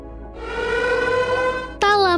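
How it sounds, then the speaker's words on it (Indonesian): A wailing siren at a sled dog race holds a steady rising tone, then abruptly shifts to a higher, falling sweep near the end, loud and close. "bunyi sirine pun terdengar di tempat perlombaan"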